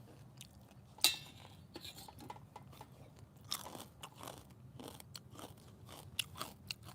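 Someone eats crispy pork rinds up close, with soft, irregular crunches and bites and a few sharper cracks scattered through a quiet room.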